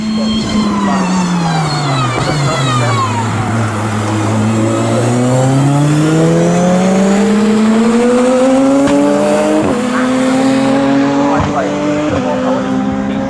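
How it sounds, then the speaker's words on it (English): A time attack race car, British Time Attack Pro Extreme class, roars loudly down the straight, its engine note climbing steadily through the gears with a sharp shift blip, under continuous commentary. "speeds down the straight, it's incredible too, 144 miles per hour as he crosses the line"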